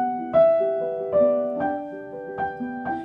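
Piano playing a passage from a Rachmaninoff prelude in punched, vertical separate motions, with clearly detached chords struck at a slow uneven pulse, each attack distinct and decaying, close and alone.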